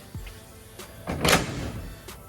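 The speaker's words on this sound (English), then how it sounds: "so you see the door closes pretty good now" A Ford Mustang car door swings shut with a solid close, a single thud heard fairly near amid light shop background noise and small clicks.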